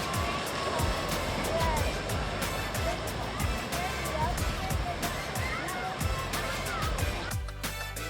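Water rushing and splashing at a resort water park splash pad, a dense continuous spray with scattered splashes, fairly faint and steady, briefly quieter at the end.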